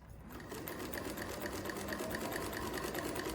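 A JUKI LS 1341 walking foot sewing machine runs steadily, its motor whirring under a fast, even mechanical stitching rhythm that starts abruptly and stays loud and close throughout.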